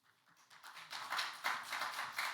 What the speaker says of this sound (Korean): 목사님 나오실 때 여러분들 큰 박수로 환영해 주시기 바랍니다.